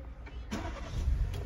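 Car engine starting after battery trouble, a brief crank that catches into a low idle rumble within about a second and a half, no talk over it.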